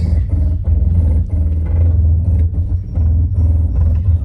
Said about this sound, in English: This is a crawl control.